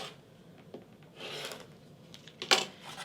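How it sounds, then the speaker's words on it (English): Rotary cutter or blade scraping through a 7.5 inch fabric quilt square on a cutting mat, soft rasping rubs building to a sharper scrape near the end, close and quiet. "Actually, this needs a little bit of trimming."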